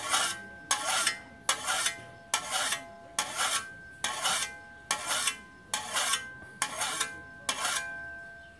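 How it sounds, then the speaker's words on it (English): A finer file scrapes along a tool edge to sharpen it, about ten even, evenly spaced rasping strokes repeated at a steady pace, close and clear with no voices. "now it's time to use the finer file and sharpen it a little bit more"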